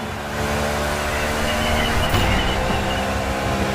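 Race car engine in The Crew Motorfest, a loud sustained drone with steady harmonic whine as the number 61 car speeds past, with a brief swell midway and no talking.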